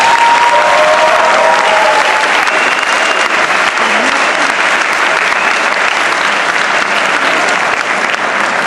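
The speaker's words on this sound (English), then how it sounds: "Final round of applause for all of our graduates tonight." A graduation ceremony audience gives the graduates a final round of applause, a loud, dense and steady wash of many hands clapping that continues without a break throughout.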